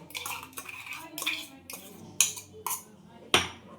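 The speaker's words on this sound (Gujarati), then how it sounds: "ધીરે ધીરે ચમચી ફેરવતી જવાની" A metal spoon clinks and scrapes against a bowl in a few sharp, irregular strokes, close by, with faint background noise between them.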